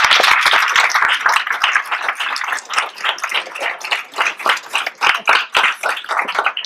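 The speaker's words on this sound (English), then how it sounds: "another round of applause for that awesome panel." Audience at a criminal justice panel event claps loudly and steadily for the panel, a dense burst of close hand claps that thins slightly toward the end, with no talking.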